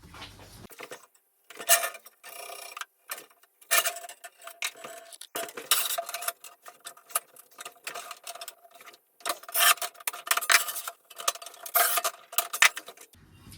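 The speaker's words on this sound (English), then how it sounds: "let's go and mark a tile and cut that in." A wall tile being marked and then cut, giving a run of short scraping and clicking bursts with brief pauses between them, close and fairly loud, with no talking.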